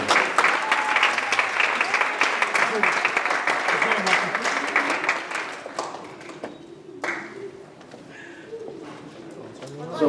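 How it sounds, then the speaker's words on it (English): Audience applause at a student leadership academy's passing-the-torch ceremony, dense and loud at first, then thinning out into scattered claps. "So please give them hearty rounds of applause."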